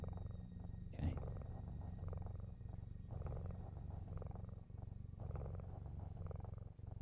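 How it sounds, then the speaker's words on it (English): Binky the cat from the video game Facade purring in a low, steady rumbling rhythm with repeating cycles, close and soft, with one brief sharper noise early on. "sounds of the purring just lull you to sleep."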